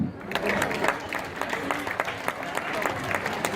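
Crowd applause at a Breton Pardon festival, many hands clapping in a dense, steady patter with sharper individual claps standing out throughout.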